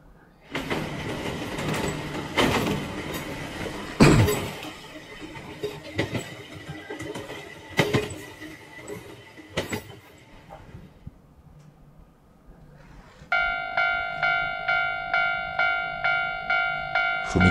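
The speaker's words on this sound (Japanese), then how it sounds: "踏切ですね。" At a Japanese railway level crossing, a train passes with loud rumbling, clanking and clattering wheel beats. The crossing bell then takes over, ringing in a steady, evenly spaced electronic ding-ding pattern.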